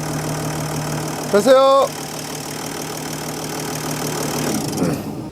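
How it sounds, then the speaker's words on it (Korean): A Mercedes-Benz S350d diesel, fresh from new high-pressure pump, belt set and alternator, cranks briefly, catches and settles into a steady idle nearby, with a short spoken word over it. "자, 이제 시동을 한번 걸어 보겠습니다."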